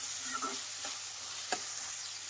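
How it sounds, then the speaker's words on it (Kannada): Lima beans fry in a pan on a medium flame with a steady, soft sizzle and a few light scrapes of stirring, close and with no voices. "ಹಸಿ ವಾಸನೆ ಹೋಗೋವರೆಗೂ ಫ್ರೈ ಮಾಡಬೇಕು ಕಾಳು"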